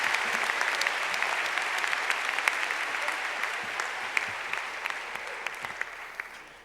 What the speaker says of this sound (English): please offer one more enthusiastic round of applause for our incredible faculty